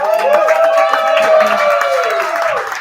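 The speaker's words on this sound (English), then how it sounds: "Big round of applause for yourselves for coming out tonight." A comedy show crowd applauding and cheering, sustained dense clapping with whoops and voices layered over it, fairly loud and close, holding steady for a few seconds.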